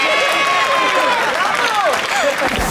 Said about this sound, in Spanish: ¡Aplauso para Phoebe!